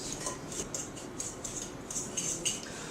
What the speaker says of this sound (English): using the side of the fork, what you want to do is kind of break up the butter so that you end up with smaller pieces